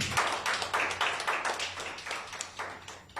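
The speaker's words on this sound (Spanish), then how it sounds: "Denle un fuerte aplauso así." Faint, scattered clapping from a church congregation, soft and somewhat distant, continuing unevenly for a few seconds with no talking.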